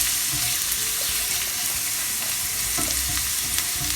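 Vegetables and chopped garlic stir-frying on a high flame for peppery tofu, a loud, continuous sizzle with the scrape and rustle of stirring in the pan.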